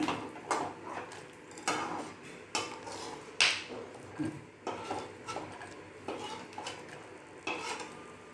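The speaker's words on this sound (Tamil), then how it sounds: "இது வந்து அக்ரோட்டு, பிஸ்தா, கருப்பு திராட்சை, முந்திரி எல்லாம் இதுவும் வறுத்து எடுத்துக்கலாம்." Walnuts, pistachios, black raisins and cashews dry-roasting in a pan, heard as repeated scraping stirs and light clinks of a spoon against metal, one sharper knock midway, over a faint sizzle.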